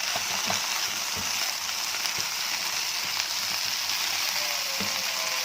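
Eggplant with cumin and black pepper is stirred in a pan over a continuous hiss of frying, with scattered soft scrapes and knocks from the spoon close by and nobody speaking.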